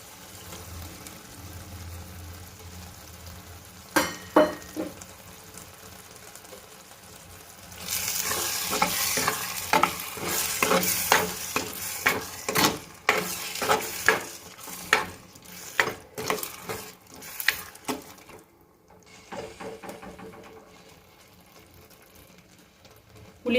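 Ground masala for a bangada fish curry sizzles in hot oil while a spoon scrapes and stirs the pan in repeated strokes. The frying hiss builds midway and eases toward the end, with no talking.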